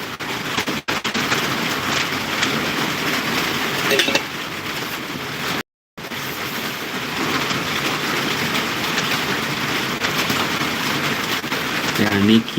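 Steady heavy rain hisses broadly and continuously at close range, with rumbling, clattering noise mixed in and a brief dropout partway through.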